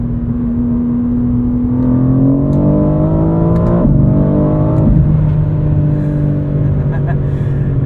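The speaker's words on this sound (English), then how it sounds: "Really gnarly exhaust." A 2023 BMW M4 CSL engine drones loudly from inside the cabin, its pitch climbing steadily as it revs, then dropping and settling with a raspy exhaust tone.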